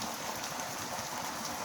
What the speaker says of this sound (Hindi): बाकी ये कुछ बारिश हो रही है बहुत शानदार